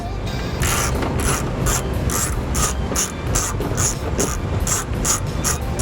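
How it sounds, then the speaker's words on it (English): A ratchet fitted with an 11mm socket backs off heat shield nuts under a 2011 Jeep Patriot, giving a steady run of rapid, evenly spaced metallic clicks, close and loud. "I'm going to be using a 11mm socket to get them down."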